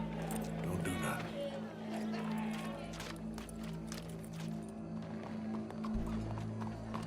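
Horse hooves clip-clopping in Red Dead Redemption 2, a quick run of muffled hoofbeats under a steady game background hum and ambience.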